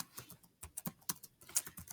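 Someone types on a computer keyboard with a few faulty keys, producing close, crisp clicks in uneven bursts with short pauses between strokes, heard alone without talking.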